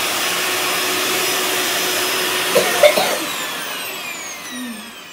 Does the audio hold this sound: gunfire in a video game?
no